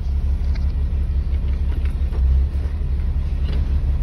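Tandem dump truck engine pulling away after being loaded, a steady loud low rumble close by with a brief swell in the middle, no talk.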